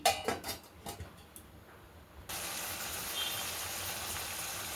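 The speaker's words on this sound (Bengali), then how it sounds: "সব নেড়ে চেড়ে দিয়ে দিচ্ছি, এবার ঢেকে দিচ্ছি" A spoon stirs food in a cooking pot, with several quick metallic scrapes and clinks close by. The pot is then covered, and a steady, even hiss follows.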